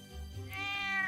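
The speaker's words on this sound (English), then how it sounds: "Meow." A single cat meows up close, a short drawn-out rising cry with no other sounds around it.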